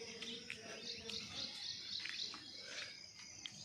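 Small birds chirp in a quick, scattered series of high tweets at a rooftop in a rain-soaked setting, fairly close but soft, over a steady hiss of insects and background noise with no talking.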